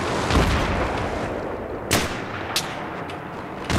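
Gunfire in Battlefield 3 on the Kings Watch map: a steady wash of distant battle noise punctuated by a few sharp, separate shots and cracks, with no talking.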